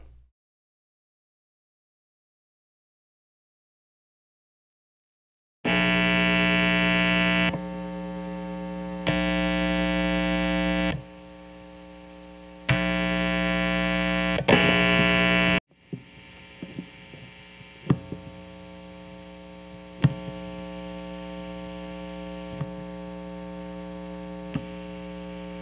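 Electric guitar with regular single coil pickups through a high-gain amp: a few seconds of silence, then a loud, steady buzzing mains hum that changes level in blocks before settling into a quieter hum with crackles and faint string noise.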